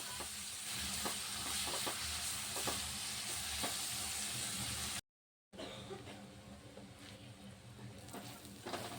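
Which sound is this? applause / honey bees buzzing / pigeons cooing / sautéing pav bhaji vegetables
sautéing pav bhaji vegetables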